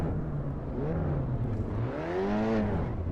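A front-wheel-drive car's engine in the racing game Assetto Corsa Evo revs under full throttle, its tone climbing and dipping through gear changes, loud and steady with a reverberant edge and no voices.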